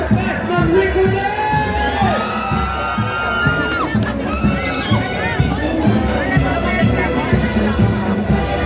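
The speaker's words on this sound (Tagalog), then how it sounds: "isang palakpakan at hiyawan para sa cast ng Recollet!" A parade crowd applauds and cheers for a film cast at a holiday street procession in Makati City, a loud dense roar of shouts and whoops with a voice talking over it throughout.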